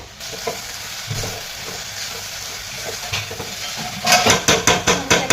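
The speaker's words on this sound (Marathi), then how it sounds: "हे पहिलं आता परतून घेऊया" Chopped spring onion greens sauté in a pan, a close steady sizzle under repeated stirring scrapes that grow into a rhythmic series of louder spatula strokes toward the end, with no talk.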